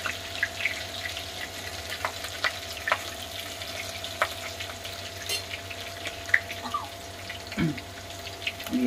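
Green chilies frying in hot oil in a pan for Bihari-style matar paneer, a steady soft sizzle with light scattered clinks of a spoon or utensil and no talking.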